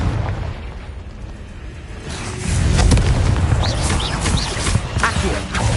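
A Confringo fire-blast spell goes off in Hogwarts Legacy, a loud booming burst that swells around two seconds in and rumbles on with crackling, echoing debris in a cave maze.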